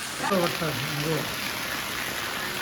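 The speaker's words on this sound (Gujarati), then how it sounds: "બહુ વરસાદ આવ્યો હો આજ કાલ બહુ વરસાદ આવ્યો" Heavy rain pours in a steady hiss, with a person speaking briefly over it at the start.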